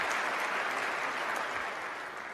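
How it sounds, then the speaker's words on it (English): A crowd applauding at a county address event, dense steady clapping that carries through and tapers slightly toward the end. "That deserves a round of applause."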